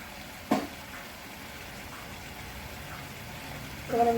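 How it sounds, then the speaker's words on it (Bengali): Bori lentil dumplings being stirred into a pan of potatoes and green chillies, a soft steady sizzle with a brief scrape near the start and faint clatter at the end, no talking. "বড়িগুলো এবার মিশিয়ে দিচ্ছি।"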